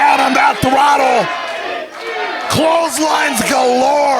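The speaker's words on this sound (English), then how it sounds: "Listen to this crowd." Wrestling arena crowd roaring and chanting loudly throughout, a dense wall of voices that swells, dips briefly near the middle, then surges back, with a commentator talking over it.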